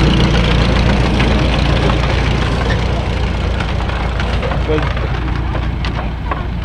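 An old tractor engine runs steadily at a farm museum, a dense low rumble with knocking texture that carries through the whole stretch while people chat nearby.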